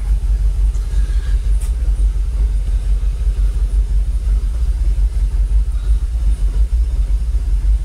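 A Jaguar XKR engine idles steadily around 700 RPM after a hard reset, a continuous low rumble with a close, even drone and no talking.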